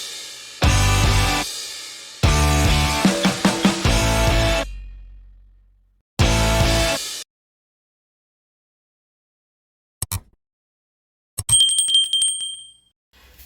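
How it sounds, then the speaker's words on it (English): A dinner bell sound effect rings in loud, bright bursts, the first ringing alone, the next a rapid clattering trill, then another ringing, followed by a few faint, brief clicks and a high, thin chime fading out. "don't forget to ring that dinner bell."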